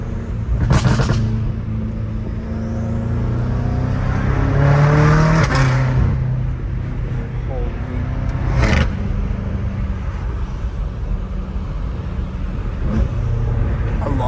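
A straight-piped BMW M5 Competition drones with a loud, raspy exhaust as the engine revs and shifts through gears, with sharp cracks between shifts over a steady rumble.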